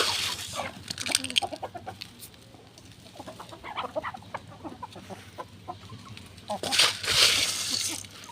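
Chickens clucking and fowl calls at a chicken farm, scattered bursts with a louder flurry near the end, over steady low background hum and faint voices.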